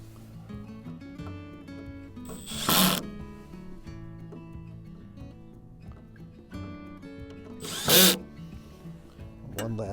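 A power drill tightens a mailbox screw in two short, loud whirring bursts a few seconds apart, over a quiet tonal background hum.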